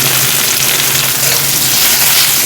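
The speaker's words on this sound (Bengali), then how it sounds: "এরপর আমি ভালো করে পেঁয়াজটা ভেজে ভাজা ভাজা করে নেব" Onions frying in mustard oil, a steady loud sizzle that runs without a break, with faint stirring under it and no voices.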